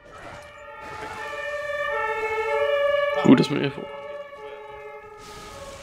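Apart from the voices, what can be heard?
emergency vehicle siren in video game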